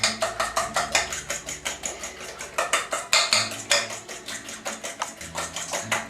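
Meatball mixture with cheese being mixed in a bowl: steady, rhythmic clinking and scraping strokes at close range, repeating evenly throughout with no talking.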